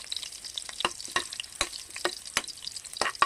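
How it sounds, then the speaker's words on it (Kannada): Garlic and ginger fry in oil in a pan for chicken sukka, giving a soft steady sizzle broken by sharp crackles and stirring clicks, heard close with no talk. "ಈಗ ಒಂದು ಬಾಣಲೆಯಲ್ಲಿ ಸ್ವಲ್ಪ ಎಣ್ಣೆ ಹಾಕಿ ಬೆಳ್ಳುಳ್ಳಿ, ಶುಂಠಿ ಹಾಕಿ ಚೆನ್ನಾಗಿ ಫ್ರೈ ಮಾಡ್ಕೊಳ್ಳಿ."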